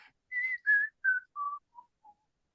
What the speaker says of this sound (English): that's the second formant content of that series of vowels